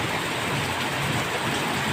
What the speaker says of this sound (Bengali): দেখো এখানে জোরে ঝড় বৃষ্টি হচ্ছে